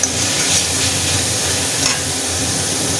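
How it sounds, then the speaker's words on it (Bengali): Steady loud sizzling of spices frying in a pan for an egg curry with kankarol, stirred continuously, with faint scraping strokes and no talking. "পাঁচ থেকে 7 মিনিটের মতো মশলাগুলোকে ভালো করে কষিয়ে নিতে হবে"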